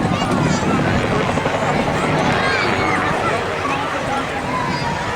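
Autogyro gyrocopter flying at the Rhyl Air Show, a continuous rotor and engine drone heard outdoors beneath steady crowd murmur, loud and unbroken throughout.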